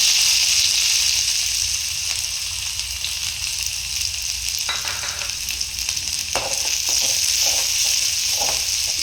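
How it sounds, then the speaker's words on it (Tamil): Mustard seeds and small shallots fry in hot oil for a Tamil dried anchovy thokku, a steady bright sizzle throughout with a few crackling pops and stirring scrapes toward the end, close and continuous with no talk. "நம்ம இந்த டைமில் வந்து கடுகு சேர்த்துக்கலாம்."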